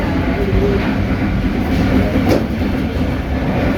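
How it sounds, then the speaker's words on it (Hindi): The Karachi Express train rumbles loudly and close by, passing through a station at speed without stopping, wheels clattering steadily over the rails after rain. "में हम थ्रू पास देखेंगे कराची एक्सप्रेस का"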